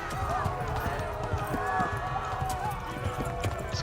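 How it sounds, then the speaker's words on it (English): Rapid hoofbeats clip-clop steadily in a galloping rhythm in the video game Kingdom Come: Deliverance, layered over a continuous musical drone. "Don't stop galloping, Mr. Horse."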